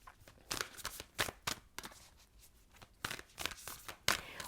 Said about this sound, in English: One more shuffle, please, for Virgo.